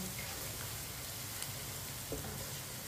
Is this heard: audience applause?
no